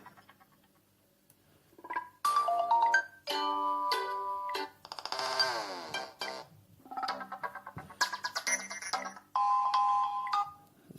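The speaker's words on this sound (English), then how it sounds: "So with the phone ringtones, as usual, you can add to your ringtones now rather than using stock ringtones" A Sony Xperia L3 phone plays through a series of ringtones, short bright melodic chimes and tone patterns separated by brief pauses, heard close and alone.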